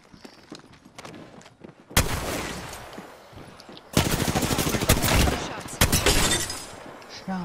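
Rapid automatic gunfire in a shooter video game, with dense bursts of shots and sharp impacts that come in two loud stretches after a quieter opening, while players talk over the action.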